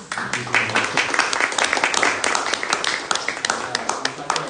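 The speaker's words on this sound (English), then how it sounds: "So another round of applause for all the leaders" An audience at a literary reading event applauds the readers, with scattered, moderately loud clapping mixed with voices and crowd chatter throughout.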